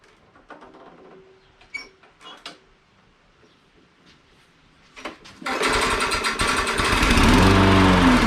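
A Briggs and Stratton lawn mower engine with something catching on the blade: a few scattered clicks and knocks over near silence, then the engine starts abruptly and runs loud and close with a busy, rattling drone.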